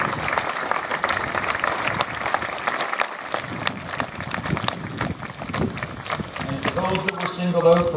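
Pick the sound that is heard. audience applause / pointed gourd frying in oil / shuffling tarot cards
audience applause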